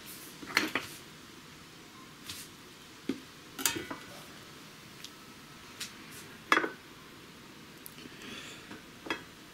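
Soft thuds and light clinks as cooled eggplants are set down into a pot, several irregular knocks against a faint background hum.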